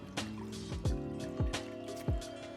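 Warm clear water squeezed out of a dirt bike air filter, running off in four quick gushes that splash and trickle, close and fairly loud.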